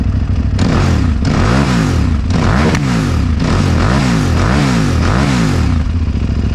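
A KTM 990 motorcycle engine fires up and revs in repeated throttle blips, loud and close, with a rough idle, slight popping and clutch chatter between rising and falling revs.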